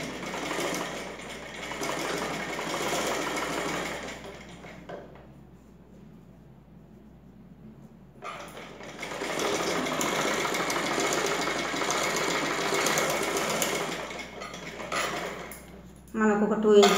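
A sewing machine stitching puff sleeve fabric for a blouse, running in close, rapid mechanical bursts with a pause in the middle before it starts again.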